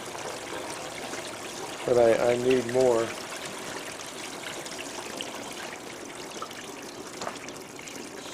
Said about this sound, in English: But I've got water running out of the sluice,